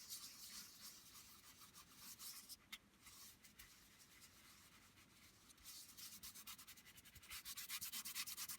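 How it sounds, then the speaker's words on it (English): A fingertip rubs mica powder over stamped areas, making a soft, scratchy rubbing sound in close repeated strokes that grows a little busier toward the end, faint and close with no talk. "now I'm going to rub it over where the areas that I stamped"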